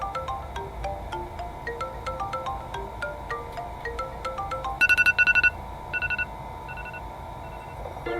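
A default phone ringtone plays in a roleplay video game, a steady run of bright electronic tone notes repeating in a regular pattern, with a few louder, sharper beeps near the end and no talking.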